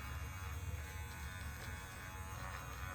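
An electric facial scrubber buzzes steadily against skin, a continuous low, even drone with no talking.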